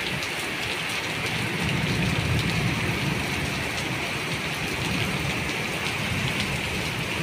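Heavy rain pours steadily in Jeddah, Saudi Arabia, a dense, continuous roar of downpour with a low rumble like distant thunder underneath, loud and unbroken throughout.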